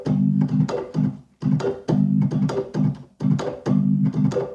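Reggae organ shuffle drag, left-hand chop pattern joined by right-hand chords, a bouncing repeated rhythm of short clipped stabs and a longer held chord in each bar, close and clear with no voices.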